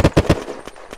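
Rapid automatic gunfire in the video game Unturned: three loud, sharp bursts in quick succession, then a few fainter trailing shots.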